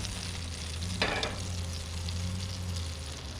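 Butter sizzles steadily in a frying pan at a mountain campsite in Colorado, a close, even hiss with a brief louder crackle burst partway through and no talk.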